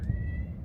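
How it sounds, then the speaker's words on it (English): A cat meows once nearby in a short, clear outdoor call with a steady tone, heard alone without talk over it. "There's a cat somewhere close by."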